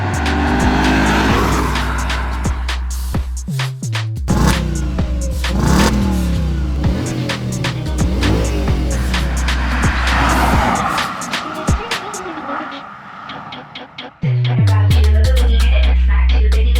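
An Audi B6 S4 does a burnout, engine revving hard as tires squeal and skid in long screeching bursts, loud and close, with abrupt drops between pulls and a throaty idle at the end; faint voices are audible underneath.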